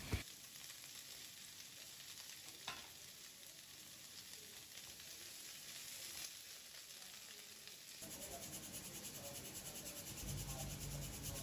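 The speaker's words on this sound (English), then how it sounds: "I will fry this beans and carrot" Beans and carrots sizzle and crackle as they sauté in a hot pan, a steady frying hiss that grows a little louder toward the end.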